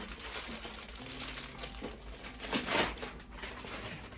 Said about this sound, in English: Let me just rip the bag.